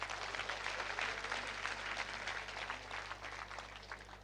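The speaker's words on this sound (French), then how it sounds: "je voudrais un tonnerre d'applaudissements" An audience at a school excellence awards day in Khombole applauds the town's mayor: dense, continuous clapping heard from a distance at low volume, with a steady electrical hum underneath.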